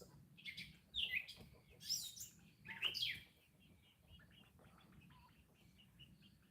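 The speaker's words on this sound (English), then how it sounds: "Come on, you crazy birds." Farm birds chirping on a farm with chickens and goats, a few bright tweets and calls in the first seconds, then fainter chatter over a low background hum.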